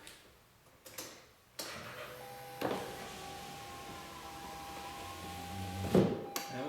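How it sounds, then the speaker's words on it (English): A power window rises on a 2004 Mazda 6 door, a steady electric motor whine running for several seconds between clicks and thumps, ending in a louder clunk as it closes. "And let's just put up the window now."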